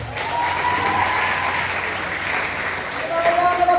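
Steady applause from a crowd at a high school career day event fills the whole stretch, with cheering voices mixed in.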